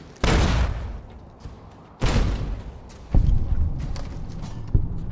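An explosion in the video game Fallout: New Vegas goes off as a sharp booming blast, followed by a second heavy blast and several thuds and gunfire-like bangs, loud with no talking.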